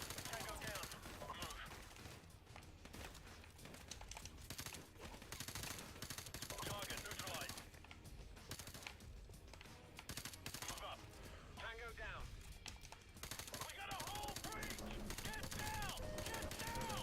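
Video game gunfire crackles in dense, rapid bursts throughout, loud and continuous, with a player's voice talking underneath.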